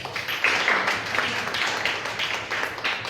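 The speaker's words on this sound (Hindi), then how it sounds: "प्रभु के लिए ताली बजाएं भाई" A church congregation claps in praise of the Lord, a steady wash of many hands with rhythmic surges, moderately loud and continuous without speech over it.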